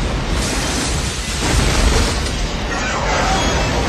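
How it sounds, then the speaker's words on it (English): A huge explosion from an alien invasion summer blockbuster film, a dense, sustained roar of rumbling low end and broadband blast noise that swells around the midpoint and holds loud throughout. "And the best movie explosion of all time."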